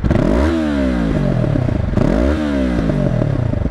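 A stock-exhaust 2023 Yamaha MT-03 motorcycle is revved twice in quick succession, each blip climbing sharply then dropping back to a loud, throbbing idle with clattering pops on the overrun.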